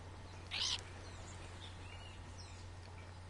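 Short chirpy bird calls from a Stardew Valley cutscene, one bright burst followed by fainter scattered chirps over a low steady hum, no talking.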